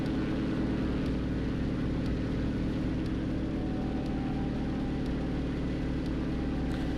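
Twin-engine P-38G-1 fighter in the game Enlisted, a loud, steady engine drone with a low, even hum and no breaks, heard alone.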